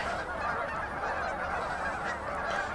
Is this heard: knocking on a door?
no